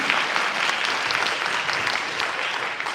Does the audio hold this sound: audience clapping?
yes